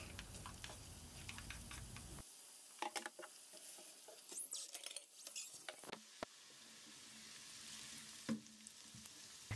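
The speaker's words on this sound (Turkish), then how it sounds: "tenceremize sıvı yağ alalım. Üzerine havucu ekleyelim. Birlikte 1-2 dakika kavuralım." Carrots frying in oil in a pot, a quiet sizzle broken by stirring clatters and scrapes of a utensil against the pot, then an even hiss.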